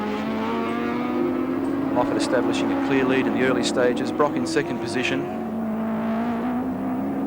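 Touring cars from the 1983 Australian Touring Car Championship round at Oran Park roar past in a steady engine drone, with rising and falling passes through the middle, under continuous race commentary.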